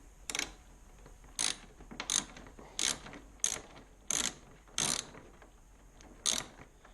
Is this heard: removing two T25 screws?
yes